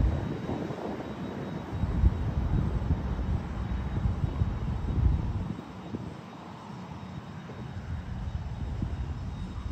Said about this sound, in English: So I think this is a Gulfstream 450, I believe. We can find out when it takes off.